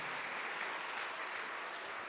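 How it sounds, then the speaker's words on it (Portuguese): Church congregation applauding during a service, a dense continuous wash of clapping from many hands, steady and fairly distant, with no clear talk over it. "Vamos aplaudir mais, igreja. Vamos aplaudir."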